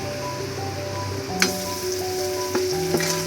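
Small fish and onions fry in a pan with a steady, close sizzle and crackle, broken by a few sharp clinks of a utensil against the pan, while a faint tonal hum runs underneath.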